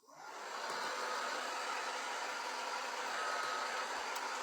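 A hair dryer blows on a painted craft sign, starting up and then running as a steady, loud, close whoosh with no talking.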